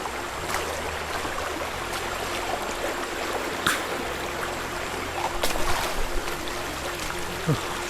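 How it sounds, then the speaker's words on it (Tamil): Rainwater streams steadily along a forest hill path on the way to a temple, a continuous close trickling and gushing that holds throughout with a few brief louder splashes. "தண்ணி போசாக தான் வந்துட்டுருக்கு மழை பெய்யுதில்ல"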